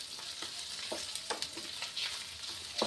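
Paneer fried rice sizzles in a pan with a constant frying hiss, broken by several scraping stirs, close by.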